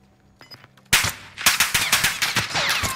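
Video game gunfire: after a faint click and a short hush, a sudden loud burst opens, then rapid automatic shots follow in a rough rhythm with ringing echoes, heard up close and with no voices.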